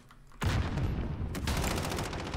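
Bursts of rapid automatic gunfire from a Call of Duty Modern Warfare match near an enemy trench building crackle loudly and continuously after a brief quiet start, dense and close with a sharp fresh burst partway through.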